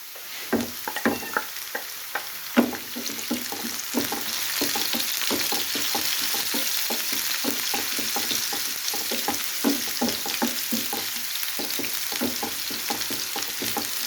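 Ginger frying in a pan for brain masala, a bright continuous sizzle close up, with rapid rhythmic stirring strokes and scraping clicks throughout.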